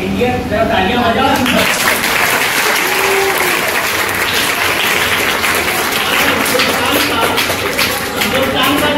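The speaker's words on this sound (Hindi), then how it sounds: "इंडिया, जरा तालियां बजाओ।" Audience applause fills the whole stretch, steady dense clapping from a seated crowd at an educational science talk, loud and continuous with a few voices mixed in.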